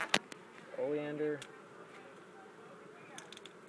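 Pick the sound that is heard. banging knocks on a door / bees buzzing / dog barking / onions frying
bees buzzing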